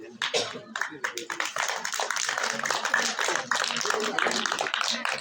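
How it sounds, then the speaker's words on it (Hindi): Applause from an audience at a school's annual result and prize distribution, as a student and parents come on stage; sustained, dense clapping fills the whole stretch at moderate loudness, with a voice faintly mixed in. "तालियां जोर से बजाएं"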